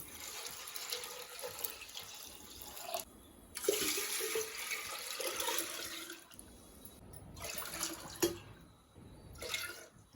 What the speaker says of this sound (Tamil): ரெண்டுக்கு தண்ணி ஊற்றிக்கணும்